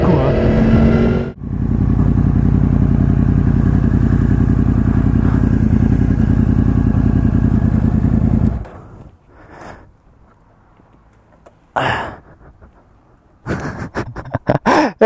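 Yamaha YZF-R1 1000 motorcycle engine held loud and steady at high rpm for about seven seconds, then dropping away, with brief later revs and a person talking.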